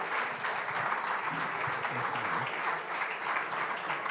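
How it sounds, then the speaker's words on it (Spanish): A group applauds after a gastronomy talk by a restaurant chef, a continuous moderate patter of clapping with faint murmuring voices underneath. "y un aplauso"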